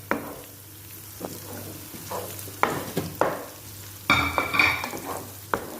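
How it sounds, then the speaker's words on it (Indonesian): Bitter melon is stir-fried with chili in a pan, with repeated scraping stirs over a steady sizzle, the strokes coming in uneven bursts close by. "Ini digoreng sampai dia layu."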